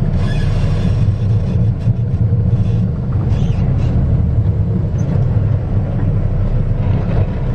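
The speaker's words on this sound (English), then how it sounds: "Now I'll be going forward to at least 5 miles per hour so I can check my service brake" A tractor-trailer truck rolls forward slowly during a service brake test, its low engine rumble and drivetrain drone steady and loud throughout, with no voices.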